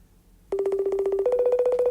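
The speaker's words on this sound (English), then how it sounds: "It's ringing." After a quiet moment, a phone tone starts abruptly, a pulsing electronic ring that steps up in pitch midway, close and clear.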